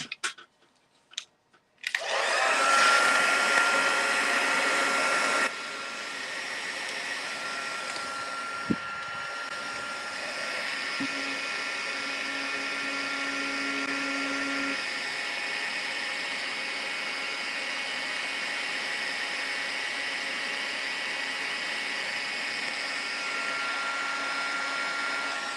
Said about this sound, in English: I still got the silver in the other one, so right, I'm just going to heat emboss that.